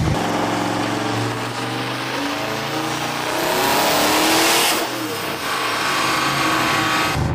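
A Lamborghini Huracan fitted with an LS V8 makes a dyno pull, its engine rising in a loud continuous rev, dipping briefly, then climbing again to a high pitch under steady roar.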